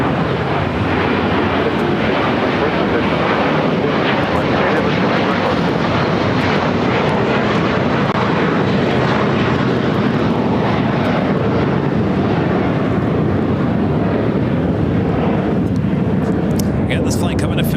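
Airliner arriving at LAX on a flight from Munich, a loud, steady jet roar that fills the whole stretch with no break.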